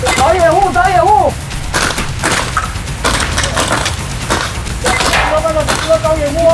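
Gunfire in a field combat game, a loud, busy stretch of rapid cracking shots in bursts, with voices shouting over it close by.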